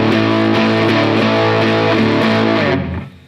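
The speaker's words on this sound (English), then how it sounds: "it's just a big, fat, ugly kind of drive. It's just really, you know, it goes mega loud" Electric guitar played through a big, fat, mega-loud overdrive pedal that makes a Fender amp sound like a Marshall, a dense distorted chord ringing loudly and steadily before cutting off and decaying at the end.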